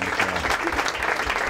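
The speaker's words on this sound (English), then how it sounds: "I'd like to give them a round of applause" A restaurant crowd applauds the young waiting staff at a talk-show cafe, steady dense clapping from many hands filling the room for the full moment.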